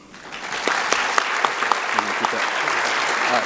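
Applause from an audience at a senior scholarship recognition ceremony as a winner is announced, a dense steady clapping with sharper individual claps standing out, sustained and fairly loud throughout.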